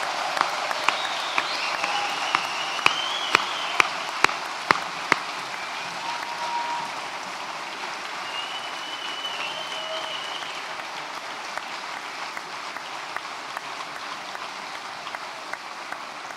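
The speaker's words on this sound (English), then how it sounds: "Can we have one massive round of applause for everyone who has graduated thus far?" Steady, sustained audience applause at a university graduation ceremony, a broad wash of many hands clapping with a few sharper close claps standing out, continuing evenly throughout.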